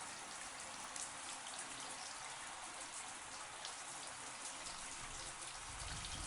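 A brief rain shower patters as a soft, even hiss of falling raindrops, quiet and continuous throughout with no other sounds standing out.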